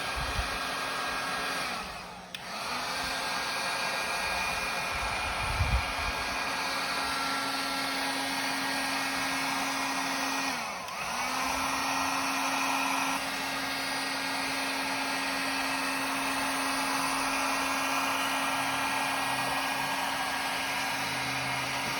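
A heat gun blows steadily while warming a tire on a Dolly XL during a front tire and inner tube replacement, a constant whooshing hum with a high whine, dipping briefly twice as it is repositioned.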